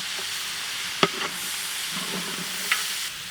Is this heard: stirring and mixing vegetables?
yes